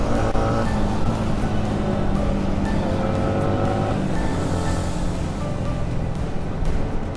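Motorbikes ride along a hilly road in the Purulia hill country, their engines droning steadily and close throughout with small shifts in pitch, and no talk.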